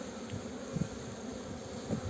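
A steady low hum of honeybees buzzing around beehive colonies, with a few louder passes close by; no voices.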